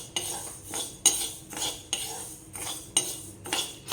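Soaked sabudana being stirred in a pan over medium heat, a spoon scraping and clinking against the metal in repeated strokes roughly every half second, close and fairly quiet.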